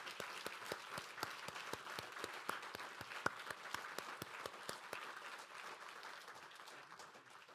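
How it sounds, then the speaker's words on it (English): An audience at a partnerships forum claps for the model club, quiet, even applause of many hands that runs steadily and then thins toward the end. "a round of applause for them,"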